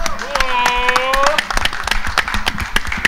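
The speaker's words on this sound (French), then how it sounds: "Est-ce qu'on peut remercier François et Jérémy et les applaudir pour ce super festival?" Scattered clapping from a conference audience at an esports festival in Torcy, irregular individual claps that start under a speaking voice and continue sparsely for a few seconds.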